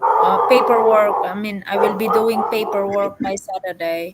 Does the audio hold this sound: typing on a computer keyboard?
no